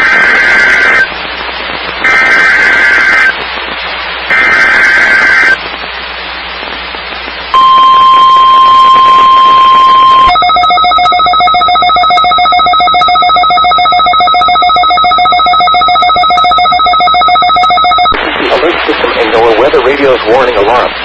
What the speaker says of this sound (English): Warning alarm.